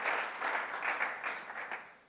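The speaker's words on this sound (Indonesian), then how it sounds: "Tepuk tangan bagi Tuhan." Church congregation at a Sunday worship service claps in a lively, moderately distant burst with slight rhythmic surges, fading somewhat toward the end.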